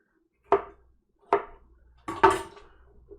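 Three separate crisp scraping strokes of a peeler or knife stripping the skin from English cucumbers for a panzanella bread salad, close and fairly loud, with quiet pauses between them.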